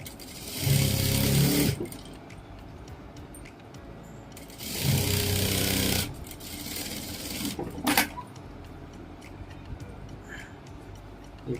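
Two short bursts of a sewing machine stitching a blouse, each a loud rapid whir lasting about a second, with quieter handling sounds and clicks between and after.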